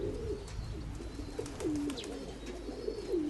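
Pigeon coos from a young homing pigeon that has just returned to its loft, several soft, repeated rolling calls close by against light background noise.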